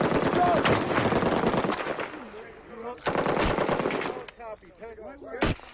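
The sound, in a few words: M240 machine gun fire in combat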